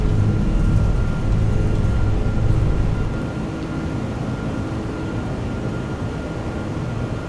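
Rolls-Royce engines of a Toliss A321 at takeoff power in X-Plane 12, a steady loud low roar that drops slightly in level partway through.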